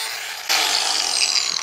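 A power tool deburring the metal edges of a Diacro table starts abruptly and grinds loudly and steadily at close range, with a rising whine.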